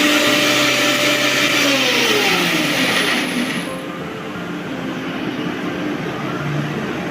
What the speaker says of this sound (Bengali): এইদিকে মিক্সির এত জোর আওয়াজ হচ্ছে